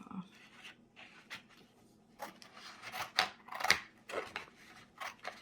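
Scissors cut pieces for a doll shoe in a run of close, crisp snips and slicing strokes, with quiet rustling between the cuts.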